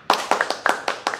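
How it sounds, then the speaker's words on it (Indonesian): A small group of onlookers claps hands in about six quick, close bursts, each a crisp smack, forming a brief, uneven round with no talking. "Mana tepuk tangannya?"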